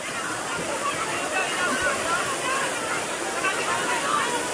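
Strong river current at a flooded crossing in Anitapan, Mabini, Davao, where a pick-up truck is being swept away: continuous loud rushing, churning water with faint voices in the background.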